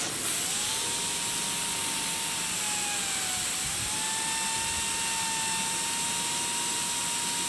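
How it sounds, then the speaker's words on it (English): A small Turgo turbine wheel mounted on a PC fan spins under a water jet, giving a steady, bright whine that dips briefly and recovers, over a continuous close hiss of spraying water. "Okay, so there's our Turgo turbine with PC fan."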